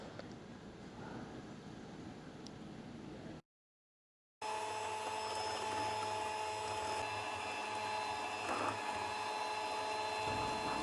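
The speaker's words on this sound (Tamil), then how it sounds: "நான் இன்றைக்கி ஹேண்ட் மிக்சர் யூஸ் பண்ணுறேன்" An electric hand mixer whirring steadily as it beats egg whites with sugar, a constant close motor drone broken by a short pause before the beaters run on again.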